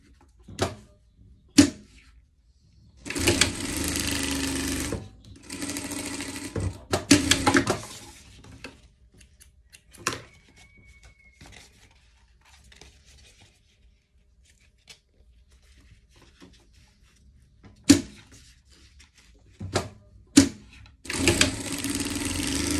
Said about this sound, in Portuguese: vamos fazer a bainha aqui antes.